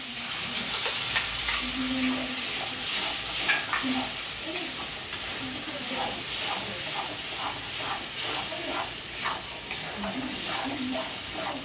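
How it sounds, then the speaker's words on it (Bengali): A paste of onion, tomato, green and dried chilli and cumin, with a little turmeric, fries steadily in a pan, a dense close hiss and sizzle with repeated spoon scrapes and stirring running throughout. "মশলাটা একটু কষিয়ে নেবো আমি।"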